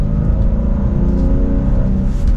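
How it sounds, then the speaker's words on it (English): Steady engine drone of a manual 2024 BMW M2 during a downshift in its quieter M1 mode, a continuous low rumble with layered tones holding fairly even and close throughout. "let's put it into M1 now, where hopefully you could hear the exhaust go away. I'll downshift so you can hear how quiet it is."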